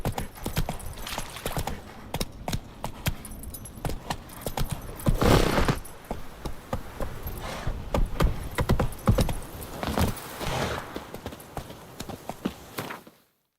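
Horse hooves gallop in The Witcher 3 in a fast, loud, close rhythm of pounding hoofbeats with some jangling tack, before cutting off abruptly at the end.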